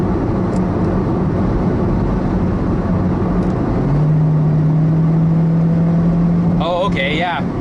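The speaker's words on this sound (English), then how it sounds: "So the assist on the electric engine really kicks in. You could even hear it happening." A 2014 Honda CR-Z EX hybrid in S+ mode accelerates with electric assist, its engine note holding a steady drone and then rising into a strong sustained whine, with a brief burst of noise at the end.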